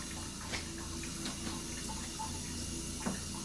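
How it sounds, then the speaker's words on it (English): Cold tap water runs steadily into a kitchen sink as vegetables, including cabbage, are rinsed before chopping for a family dinner. The flow is a continuous close hiss with a few small splashes and clinks, and no one speaks. "So I wash these off in like cold water, just a good rinse off before I start chopping"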